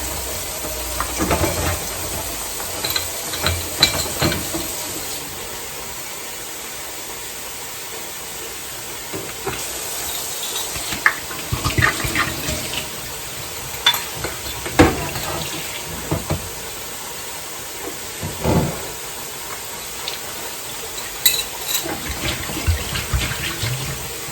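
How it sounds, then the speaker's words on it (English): Tap water runs into a sink as a glass bottle is rinsed out. The splashing and gurgling are close by and come in uneven bursts, with sloshes and quieter pauses, and no one talks. "First I'm going to rinse out the bottle with some"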